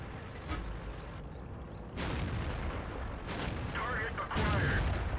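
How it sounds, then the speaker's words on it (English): Artillery shells rain down during a World of Tanks battle: a dense, continuous barrage of booms and cracks that swells louder toward the end, with a voice talking over it. "Artillery is coming down on us, so I'm going to keep moving."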